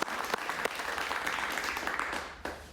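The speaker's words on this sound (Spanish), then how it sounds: "Un aplauso para el" A studio audience at a television interview claps for a groom-to-be, a short, moderately loud burst of many hands with a few sharp individual claps, fading near the end.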